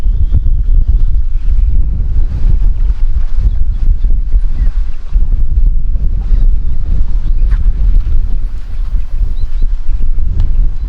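Strong, steady wind roars and buffets the microphone with a loud low rumble during carp fishing, continuing without a break.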